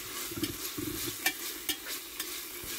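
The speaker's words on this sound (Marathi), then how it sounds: "हे सर्व मिश्रण एकत्र करायचं आहे व्यवस्थित मिक्स करायचं आहे" Onion, tomato, green chilli and spice mixture with cloves and green cardamom being stirred in a pan for soybean biryani, with repeated scraping spoon strokes over a steady gentle sizzle, close and alone without talk.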